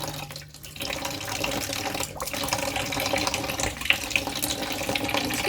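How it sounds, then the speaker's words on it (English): Water runs and dribbles steadily from a laser cutting machine being drained during maintenance, a continuous close splashing trickle with a few brief drips and no voices. "just so when it starts dribbling it doesn't dribble inside the machine"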